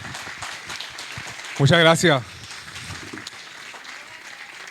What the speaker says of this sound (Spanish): le damos la bienvenida a Rafa con un fuerte aplauso, por favor.